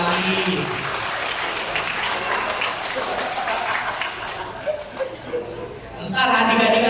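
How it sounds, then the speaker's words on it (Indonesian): Guests at a restaurant's second anniversary celebration applaud a woman who made a tumpeng. The steady, dense clapping carries through, and voices come in near the end. "tepuk tangan dulu untuk Stefani"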